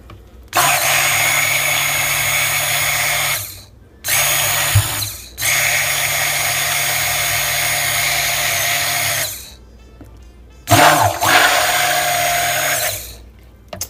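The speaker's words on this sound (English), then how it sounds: "grab my stick blender, and I'm going to go ahead and blend this until trace" A handheld stick blender whirs loudly through soap mixture for hot process soap, run in several long bursts with brief pauses, blending toward trace. No one speaks.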